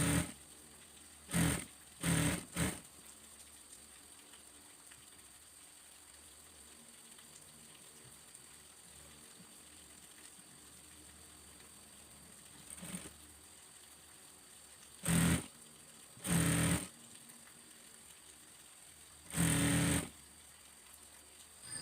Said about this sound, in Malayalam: നമുക്ക് പുറത്തുകൂടി ഒന്ന് പതിച്ച് സ്റ്റിച്ച് ചെയ്ത് കൊടുക്കാം